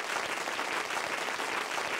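A General MIDI applause sound effect from an Akai MPK Mini Play MK3 keyboard, a steady wash of clapping that stays even and continuous from start to finish with no talk over it.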